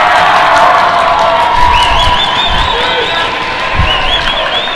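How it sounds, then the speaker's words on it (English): Crowd at a Lady Bruins versus Lady Coyotes girls' basketball game in a gym, a loud constant din of cheering, shouts and scattered clapping with whistling whoops, while a voice talks underneath. "Actually, pretty good crowd out here this evening."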